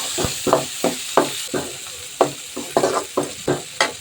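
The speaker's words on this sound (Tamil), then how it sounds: "இப்போ இது வதங்கட்டும்." Tomatoes sautéing in a pan with turmeric and salt, a spoon scraping and stirring in a steady repeated rhythm over a constant soft sizzle, close and fairly loud, with no talking.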